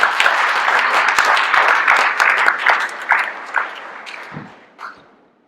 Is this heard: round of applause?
yes